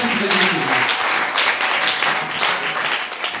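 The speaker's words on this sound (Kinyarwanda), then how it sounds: "reka tuyikomere amashyi menshi" A church congregation applauding during a sermon: loud, dense, sustained clapping from many people, close and continuous for several seconds.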